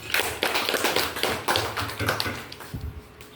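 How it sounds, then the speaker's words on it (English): A class of pupils claps for a classmate, a burst of scattered, uneven hand claps that thins out toward the end. "Give him a clap."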